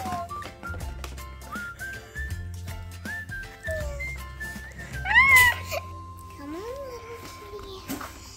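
High, sliding meow-like tones from a toy kitty in a Fisher-Price animal rescue playset, loudest around the middle and followed by a softer rising-falling cry, heard over steady background music and play chatter.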